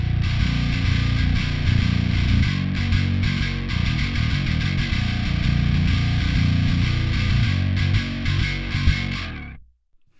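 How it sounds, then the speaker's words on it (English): A bass guitar plays a driving riff for a modern metal tone, blending a clean channel's low end with a distortion channel's gritty edge, loud and continuous before cutting off at the end. "by blending the two together. So here is the clean channel and the distortion channel."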